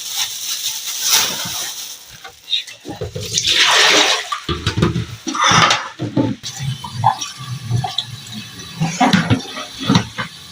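Tap water runs and splashes as whole chickens are washed in a home kitchen, coming in loud gushing bursts with brief pauses between.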